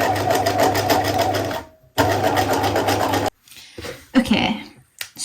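A sewing machine stitches through fabric and wadding in two loud, fast, steady bursts separated by a brief pause, followed by quieter handling noises and short thumps.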